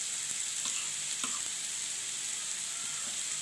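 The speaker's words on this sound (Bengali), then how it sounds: "এবার এটার সাথে একটু মিশিয়ে নিলাম" Vegetables fry in a pan as turmeric gets stirred through them, a dense steady hiss of sizzling with a few soft scrapes of the spoon, close and unbroken, no talking.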